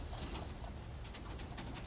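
Young pigeons coo inside a loft on a windy day, a low, steady murmur of soft overlapping calls running throughout alongside a constant broadband rush, with no talking.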